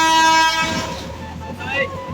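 The Madhumati Express at platform one of Kumarkhali railway station, with a brief sustained horn-like tone fading into the rumble and rattle of the train, heard close with a voice speaking over it.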